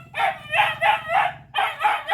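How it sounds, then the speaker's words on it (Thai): A dog barks in bursts at a house in rural Thailand, about six sharp, loud barks in two quick clusters separated by a short pause, with no talk over them. "มันเห่า"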